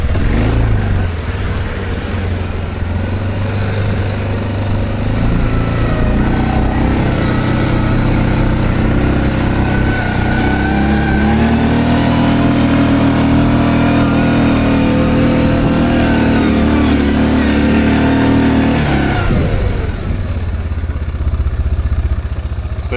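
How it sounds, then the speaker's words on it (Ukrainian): A Linhai 550 ATV quad bike engine drives off-road at steady medium throttle, a continuous loud drone that rises in pitch midway then drops off near the end, with no talk over it. "Даже передню блокировку не включав на середньому газу. От вам і квадроцикл."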